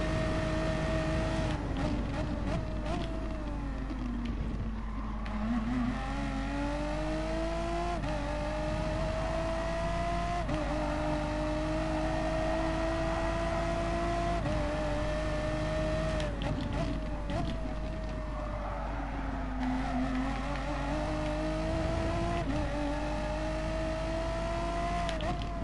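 Race car engines in the Gran Turismo Sport video game, racing at Suzuka or Sardegna, drone loudly and continuously, with pitch rising and falling through repeated gear shifts as the car accelerates and brakes.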